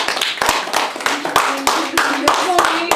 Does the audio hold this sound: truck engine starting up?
no